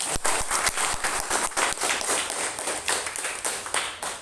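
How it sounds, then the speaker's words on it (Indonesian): Scattered hand clapping from a small group, distinct claps in an uneven rhythm, close and moderately loud. "terima kasih buat tepuk tangan buat Selo."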